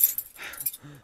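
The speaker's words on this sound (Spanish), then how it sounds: "toma sus llaves y la abre." Keys jangle and rattle briefly as a front door is unlocked at home, a quick close metallic clink with a faint low thud near the end.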